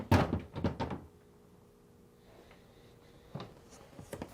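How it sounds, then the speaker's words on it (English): A top freezer drawer in a Whirlpool Maytag kitchen freezer slides out with a cluster of close plastic knocks and rattles, then after a quiet stretch a few lighter clunks follow as it is lifted free. "remove the top drawer by sliding it out and lifting up"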